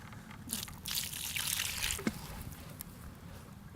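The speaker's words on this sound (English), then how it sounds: "Make a little basin around it if you can, and go ahead and add more water." Water is poured into a little basin around a newly planted container plant, a soft trickling splash in uneven bursts with a brief knock partway through.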